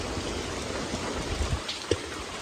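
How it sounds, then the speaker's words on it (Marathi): Steady monsoon rain pours over a Konkan village under dark clouds, an even wash of falling water with a few sharper drip knocks, no voices. "आजचा दिवस तरी दिवस रात्र पाऊस लागत राहणार"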